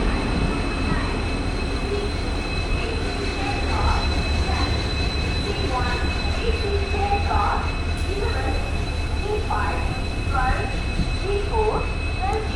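Thrissur–Kannur Express hauled by a WAP-7 locomotive rolling into Shoranur station, a loud steady rumble with repeated rhythmic wheel clacks and squeals over several seconds, voices murmuring on the platform underneath.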